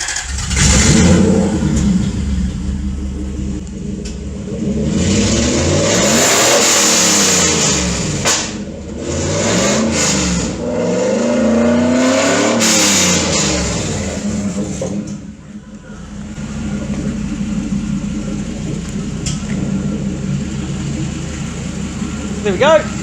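A freshly installed Toyota 1UZ VVTi V8 in an MA70 Supra, on its first day running, revs repeatedly, rising and falling in several long, throaty bursts before settling to a rough idle.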